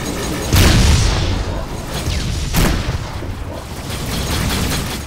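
Missile explosions in the space-combat game Rebel Galaxy Outlaw: a heavy boom near the start and a second blast midway, over a dense, rumbling battle din with more distant bursts.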